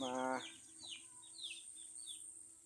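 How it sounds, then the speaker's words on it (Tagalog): A short burst of clucking at the start, then faint chirps and calls from birds in the background over a quiet outdoor hum. "Manok. Manok ng kapitbahay."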